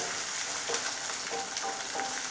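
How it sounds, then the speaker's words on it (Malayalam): Garlic, ginger, green chillies and curry leaves fry in hot oil for a beetroot and date pickle, a steady close sizzle with a few soft stirring scrapes, no voices. "ഇപ്പോൾ എണ്ണയൊക്കെ കിടന്നിട്ട് തന്നെ നന്നായി ഒന്ന് മൊരിച്ചെടുക്കാം"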